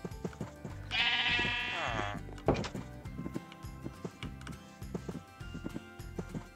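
A loud sheep bleat sounds from a blocky Minecraft-style game for about a second, followed by a shorter bleat, with scattered footstep-like thuds and clicks around it and a voice talking.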